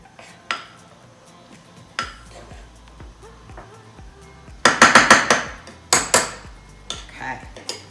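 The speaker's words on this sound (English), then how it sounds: "Now I'm gonna take a knife and just run the knife through the cake" A knife clinking and scraping against a baking pan while being run through sour cream cinnamon coffee cake batter, a run of sharp metallic taps with quieter scrapes between, close.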